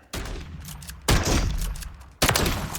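Call of Duty Modern Warfare III shotgun blasts in Warzone fire three loud, booming shots about a second apart, each with a trailing echo and no talking.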